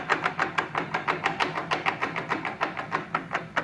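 A Monarch 10EE lathe runs with its headstock gearing making a fast, regular rhythmic whirring clatter, steady and close with no speech over it.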